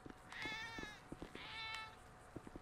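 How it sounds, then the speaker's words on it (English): Cat in the GTA V video game giving two drawn-out, whiny meows in a row, faint against a quiet background with scattered soft clicks and taps. "That's a cat."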